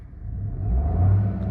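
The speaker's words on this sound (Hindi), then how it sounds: "आप देख सकते हैं कितना नॉइजी इंजन है, 3 सिलेंडर इंजन है ये नया मारुति का 3 सिलेंडर इंजन" The new Maruti Suzuki Swift's three-cylinder engine revs steadily with a low, noisy rumble that swells slightly, close and continuous with no talking.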